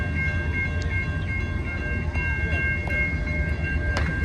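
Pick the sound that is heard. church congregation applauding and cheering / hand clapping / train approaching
train approaching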